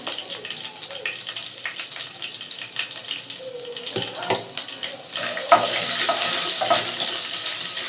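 Chicken frying in hot oil with dried red chilli, cinnamon, cloves and cardamom gives off a close sizzle, interrupted by stirring clatters, and the hiss swells louder toward the end.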